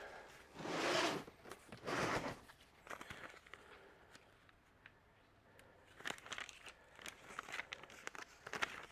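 Packing tape pulled and pressed onto a cardboard shipping box holding an electric folding travel scooter: a few quiet, close, ripping and crinkling strips, followed by softer handling noises.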